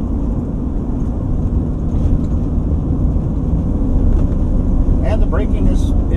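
Inside a 1966 Ford Mustang coupe on the road, a steady, loud low engine and road rumble fills the cabin without a break.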